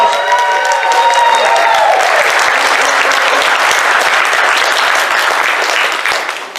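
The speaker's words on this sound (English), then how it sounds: "Give him a big round of applause." A room full of fans at a convention opening ceremony bursts into sustained applause with some cheering, loud and dense, rising over a fading musical tone and tapering off at the end.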